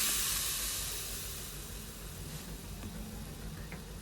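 Tomato paste added to hot oil with spices for a katla fish curry gives a broad, loud hiss that fades slightly after the first second and then holds steady and even, with no voices.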